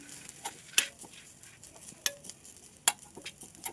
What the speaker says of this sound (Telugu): అదే బాండీలో కొబ్బరి వేసుకుని లైట్గా వేగించుకోవాలి.